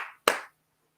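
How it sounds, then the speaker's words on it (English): A single sharp hand clap, close and crisp, followed by a short decay and then near silence. "clap your hands"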